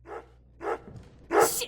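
A dog in the horror video game Remothered: Broken Porcelain barks three times, each bark sharp and fairly close, spaced about half a second apart, with the last one the loudest and trailing into a whiny yelp.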